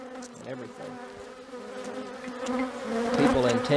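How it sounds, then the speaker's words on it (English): A defensive honey bee colony in Virginia hums steadily up close, a continuous layered buzz that swells louder toward the end as more bees crowd near. "There you are, some of the hottest bees in Virginia, people."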